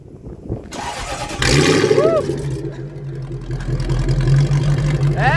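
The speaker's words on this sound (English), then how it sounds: "I want you to hear what a straight pipe V8 sounds like." A straight-piped V8 hot rod engine in Kenya cranks and fires up, then settles into a loud, rumbling, uneven idle close by. People talk around it.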